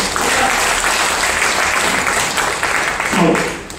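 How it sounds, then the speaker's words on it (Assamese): Audience at a direct-selling seminar applauding the guests, with dense, sustained clapping that stays loud throughout and a voice briefly heard near the end. "অতিথিসকলৰ কাৰণে এটা হাত তালি হৈ যাব"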